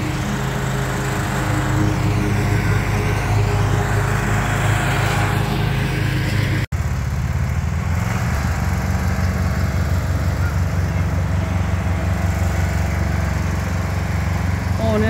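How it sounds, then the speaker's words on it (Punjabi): A small tractor driven by children around a home garden, its engine droning steadily and loudly throughout with a brief cut midway, voices faintly mixed in. "ਏਕਮ ਵੀ ਅਤੇ ਕੌਣ ਵੀ ਟਰੈਕਟਰ ਚਲਾਉਂਦੇ ਪਏ ਆ"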